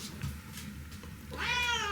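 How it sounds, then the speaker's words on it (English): A cat meows once near the end, a fairly faint, drawn-out cry rising over low room hum and soft background noise. "Cats like Sammy that just meow a lot communicate that way with the other cats also"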